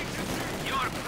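Dense gunfire rattles in Company of Heroes 2 as an infantry group is cut down, a continuous crackling burst mixed with game sounds while a commentator talks over it.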